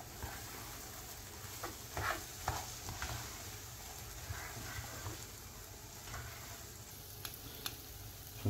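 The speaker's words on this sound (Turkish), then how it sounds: "3 su bardağı kadar daha önce ıslattığım bulgurumuzu ilave edelim. Yine iyice karıştıralım." Soaked bulgur being stirred into sizzling vegetables in a pan for bulgur pilaf, a steady low fry with soft scraping strokes of the spoon, quiet and close.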